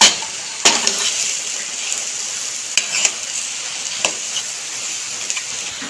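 Mashed boiled potato being stirred into hot oil with turmeric and cumin powder in a pan, a steady soft sizzle with scattered clinks and scrapes of the spoon against the pan.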